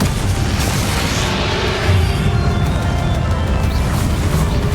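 Confringo fire-blast spell cast in the video game Hogwarts Legacy, a dense, loud, continuous roar of booming explosive rumble filling the whole stretch with no pause.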